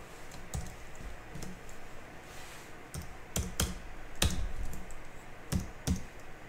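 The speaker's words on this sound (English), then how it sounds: "You don't need to see me typing all that in." Keys clack on a computer keyboard as table data is typed into Mathcad: irregular bursts of close, crisp keystrokes with short pauses, over a faint steady room hiss and no voices.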